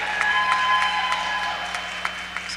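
Audience applause at a church diocese synod gathering, a fairly steady wash of clapping lasting a couple of seconds and thinning toward the end, heard at moderate distance in a large hall.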